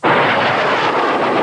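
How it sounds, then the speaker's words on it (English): A light aircraft hovering in place like a helicopter at Caboolture, its engine giving a loud, steady broadband roar throughout with no talk. "I think for an aeroplane to sit there and hover like a helicopter"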